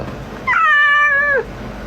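A single drawn-out cat meow, close and clear, rising then falling over about a second against quiet room background.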